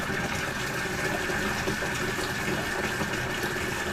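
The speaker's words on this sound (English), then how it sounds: "by running hot water in there." Steady rushing hot water pours continuously from a tap, a constant broadband hiss with no pauses or talking.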